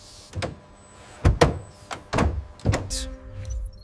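Factory assembly line where car doors on an electric supercar are shut, a series of close heavy thunks and latch clicks spaced about half a second apart, followed by a whirring mechanical sound.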